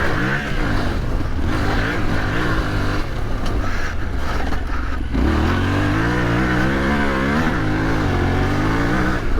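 A Yamaha Tenere 700 World Raid motorcycle fitted with an aftermarket exhaust revs near by, with a deep, loud engine note that rises and falls through several throttle blips and sustained pulls.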